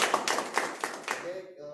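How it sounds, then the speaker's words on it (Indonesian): Audience clapping at the close of a mentoring session, a brief burst of claps for about a second that quickly fades out, with a voice starting to speak as it dies away. "tepuk tangan untuk Pak."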